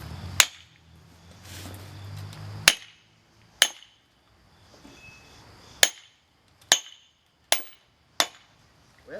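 Sharp, loud hammer blows striking wood while riving it to split spindle blanks, spaced irregularly about a second apart, with a softer rustling and scraping stretch near the start.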